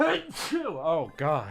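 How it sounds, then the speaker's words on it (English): A single sudden sneeze from a person playing a Pokémon video game, followed at once by a startled spoken exclamation; close and loud. "Bless you."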